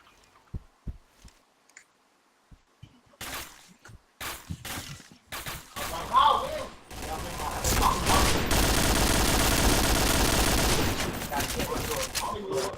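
Gunfire in the online video game Pantheon: a few sparse, sharp shots at first, then quick clusters, building into dense, sustained firing that runs loud to the end, with players talking over it.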